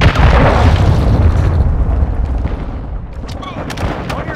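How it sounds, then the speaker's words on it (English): Cruise missile strikes in Call of Duty: Modern Warfare II, a heavy booming blast that opens loud and deep, then rumbles and decays over several seconds, with scattered sharp pops and crackles near the end. "Hostiles launched a cruise missile."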